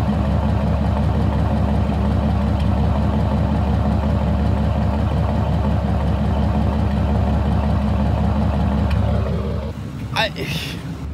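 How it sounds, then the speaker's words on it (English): A 1993 Chevrolet K1500 pickup truck engine idles with a steady, low, throbbing rumble for about nine seconds, close and loud, before it cuts off, followed by a brief scraping noise. "My truck was literally idling perfectly fine"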